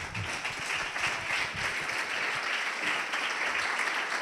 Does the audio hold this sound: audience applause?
yes